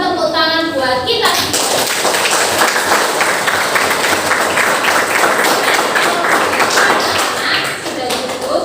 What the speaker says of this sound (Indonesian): Mari kita tepuk tangan buat kita.